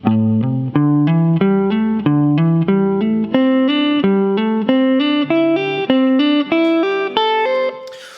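A rapid electric guitar run of smoothly connected notes, climbing steadily in pitch, loud and clean with no talking.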